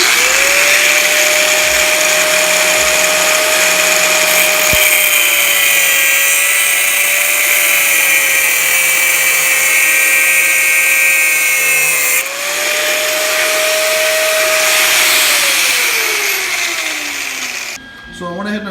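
A power tool cuts pieces of metal rod for a custom fender hinge on a 1983 Honda ATC 70. It gives a loud, sustained high whine that holds steady, dips briefly mid-cut and then winds down at the end.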